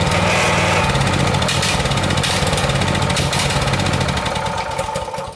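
A small engine with its drive chain removed runs roughly and unevenly, a loud, close, rattling chug that pulses rapidly and stumbles, with no talking.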